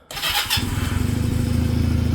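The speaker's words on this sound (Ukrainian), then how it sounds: "Запускаємось і слухаємо, як він робить ратата." A Futong JT250 motorcycle engine cranks and catches after a brief starter whir, then settles into a steady, close, rhythmic idle putter with no one talking.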